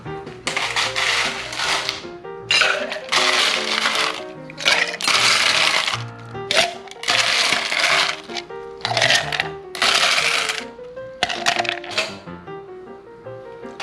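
Ice clinks and rattles in a mixing glass as a Manhattan cocktail is stirred, coming in repeated bursts of bright, glassy clatter with steady tonal music underneath.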